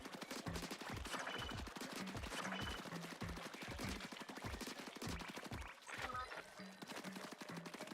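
Rapid bursts of ink gun fire in the Splatoon video game, a dense, steady rattle of repeated shots running the whole time with game music and effects layered beneath.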